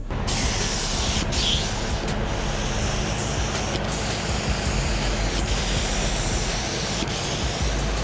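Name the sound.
spray gun spraying primer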